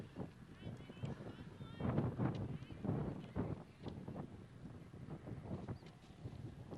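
Low, rumbling wind buffeting the microphone at a high school softball game, swelling and easing throughout, with a voice talking faintly over it.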